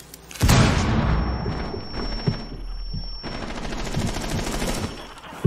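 Gunfire in a video game comes as loud, rapid automatic bursts that begin abruptly. The bursts are dense and sustained, pause briefly, then start again, and a few sharp single shots stand out.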